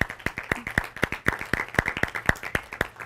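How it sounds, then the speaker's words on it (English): A handful of people in a classroom-style audience clapping at a final exam review session, a sparse, rhythmic series of distinct, sharp hand claps, fairly close and evenly spaced, with no talk over them. "I think they deserve a round of applause."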